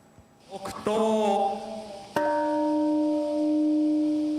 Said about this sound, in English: A bell to mark the moment that killed thousands.